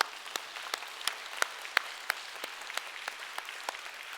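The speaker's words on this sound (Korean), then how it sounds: "부활하신 주님께 영광의 박수" A church congregation applauding during an Easter Sunday service, steady thin clapping from many hands with a few crisp claps popping out, moderately quiet and reverberant.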